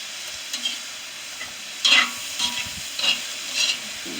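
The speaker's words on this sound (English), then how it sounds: "Get all that seasoning mixed down in there." Seasoned meat sizzling in a pan over an outdoor fire on a homemade stove, a soft steady fry broken by several sharp scraping stirs spaced about half a second apart, no speech.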